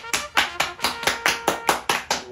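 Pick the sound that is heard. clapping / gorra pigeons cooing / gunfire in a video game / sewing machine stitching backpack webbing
clapping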